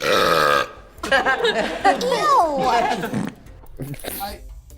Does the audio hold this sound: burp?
yes